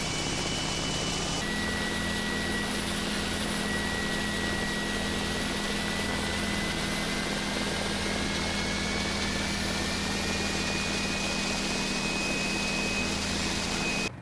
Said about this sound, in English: With the engine starting up, let's close the door, and when shut, note the sound difference.